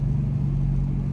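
Turbocharged Holden Torana, one of only 33 built, cruising at highway speed, giving a steady low engine drone and road rumble at constant volume with no revving or gear changes.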